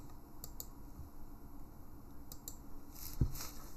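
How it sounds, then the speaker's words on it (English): Fingers tap on a computer keyboard in short, scattered keystrokes, quiet and close, over a low steady room hum. "We're going to type in,"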